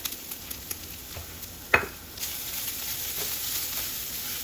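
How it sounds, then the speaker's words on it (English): White onion and freshly grated coconut roast in a pan with a soft, low hiss. Occasional light stirring taps are heard, plus one sharper clack from a utensil partway through. "So once the onion turns golden brown, I'll add the freshly grated coconut."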